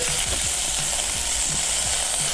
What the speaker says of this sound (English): We're also gonna add our garlic in there too. We're just gonna get some color on it, get it translucent.